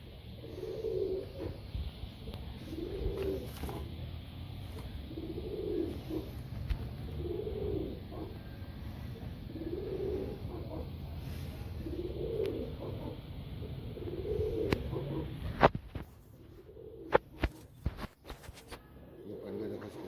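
Bankay green-eyed pigeons, Rampuri breed, cooing in a slow regular series of soft low coos about every two seconds, close and fairly quiet, with a few sharp knocks and rustles near the end.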